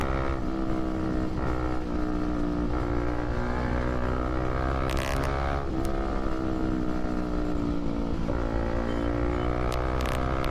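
A Pulsar NS 200 motorcycle fitted with a short SC Project exhaust runs close by with a loud, continuous engine roar. The pitch rises and falls slightly across the stretch, and no voices are heard.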